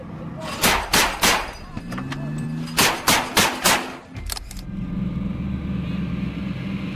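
An M242 Bushmaster 25mm chain gun fires in two bursts of sharp, evenly spaced heavy reports, each burst about four or five shots, loud and close, with a low mechanical rumble continuing underneath.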